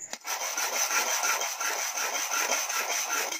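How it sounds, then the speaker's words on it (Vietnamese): A metal drink can is ground against a knife sharpener to take off its lid, giving a steady, continuous scraping rasp that runs throughout, close and fairly loud, with no talking. "Chúng ta tí nữa chúng ta mài cái lon này, lấy cái nắp ra."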